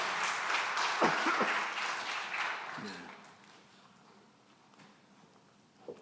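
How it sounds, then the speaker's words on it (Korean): A church congregation claps to welcome missionary guests, a fairly full applause at first that thins out and fades to near quiet after about three seconds, with a brief voice or rustle underneath. "여러분 박수로 환영해 주십시오"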